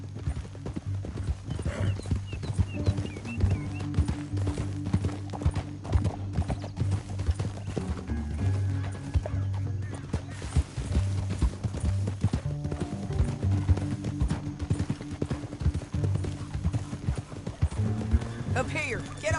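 Steady clip-clop of horse hooves trotting throughout in the video game Red Dead Redemption 2, with occasional whinnies and voices talking over it.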